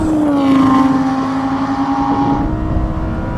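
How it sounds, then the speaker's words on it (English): A Nissan GTR accelerating hard in a drag race against sports cars, its engine a loud, sustained roar with a steady rising tone held close throughout. "Hopefully the GTR will continue accelerating past the finish line so we get a proper time out of it"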